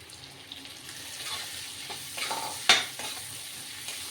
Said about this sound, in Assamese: আলুখিনি অকণমান ভাজি ল'ম।